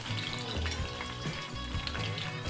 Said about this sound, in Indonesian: Kita tumis terlebih dahulu hingga wangi ya.